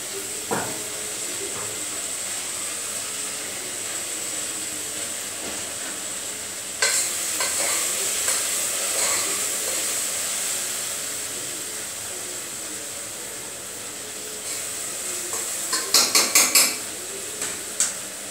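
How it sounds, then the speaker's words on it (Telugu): Okra (ladies finger) pieces sizzle steadily in hot oil in a pan, with occasional scraping and clinks from a spoon as they are stirred, clearer clattering bursts near the end. "కొంచెం వేగాలండి బెండకాయలు. వేగేద్దాం. కొంచెం ఆయిల్ పోతాము."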